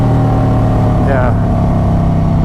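A Harley Road Glide with a Khrome Werks Outlaw exhaust roars loud and close as it dumps the clutch in second gear, a steady heavy engine drone with a brief rising note, alongside people talking.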